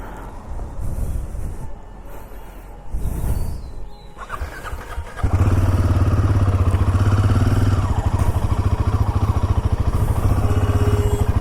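A motorcycle on a mountain road begins with a few seconds of quieter, uneven noise, then its engine bursts into a loud, steady, close rumble that holds to the end.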